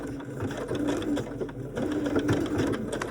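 A sewing machine stitches a blind hem, running continuously with a close, steady whirring hum and rapid needle clatter.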